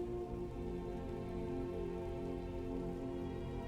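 Rain and a waterfall pour steadily inside a cave in Skyrim, a constant, even hiss and rush of water, faint and without talk.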